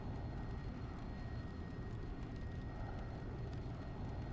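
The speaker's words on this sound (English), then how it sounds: "80 knots, rotate." Steady, even engine roar from an airplane accelerating down the runway on its takeoff roll in the X-Plane flight simulator, with a faint whine running through it and no talk over it.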